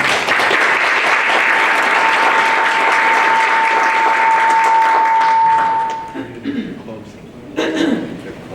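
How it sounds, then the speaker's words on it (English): A room of people at a city council candidate forum applauds the candidates, steady loud clapping for about six seconds with a sustained tone underneath, then tapering into scattered claps and murmured voices. "Please give each candidate a round of applause."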